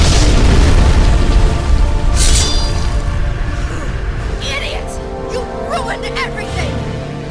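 Explosion in a Tomb Raider Legend cutscene, a loud heavy boom rumbling at the start then decaying into a lingering roar with scattered debris clinks, voices speaking over it.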